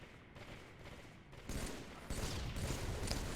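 Gunfire in the Halo video game, a few muffled bursts of shots that grow louder partway through, over a constant game background.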